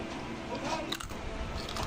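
Crispy roasted pig skin from a lechon pig's head being chewed close up, a few wet crunches and bites in quick succession with faint background noise.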